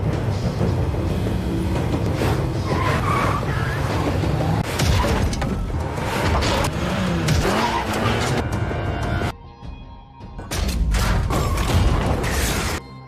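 Cars skid and crash in a movie car chase on a highway, with loud tire squeals, engine roars and impacts that drop out briefly to near silence before the chaos returns.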